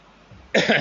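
A single short, throaty throat clearing, close and fairly loud, after a moment of near silence.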